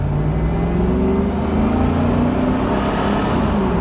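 A Chevy SSR truck driving along, its steady mid-pitched engine hum and whir rising and shifting tone as it moves through gears, loud and continuous from inside or near the vehicle with no talking.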